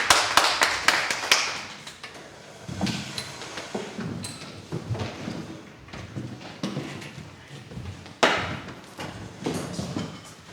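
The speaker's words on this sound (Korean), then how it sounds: "우리 주님께 영광을 박수 드리겠습니다." A church youth-worship congregation claps in a brief burst at the start, then irregular taps and knocks continue faintly through the hall with little else.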